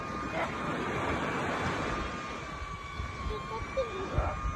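A small DJI Neo drone flies outdoors and follows people who are running, giving a steady, thin motor whine over constant broadband wind-like noise. The whine holds at moderate loudness throughout.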